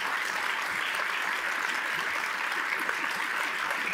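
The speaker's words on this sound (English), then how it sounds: "Please show your appreciation with a round of applause." Steady applause from the audience at a panel talk event, a dense continuous patter of many hands held at an even level for the whole stretch with no voices over it.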